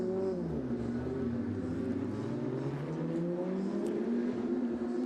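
Race cars pulling out of the pit lane onto the Hockenheim circuit during qualifying, engines droning and revving steadily and fairly loud throughout, with no talk over them.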